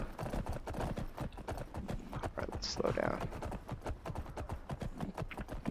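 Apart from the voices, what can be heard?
horse hooves clip-clopping in Skyrim video game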